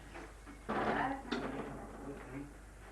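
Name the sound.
door being opened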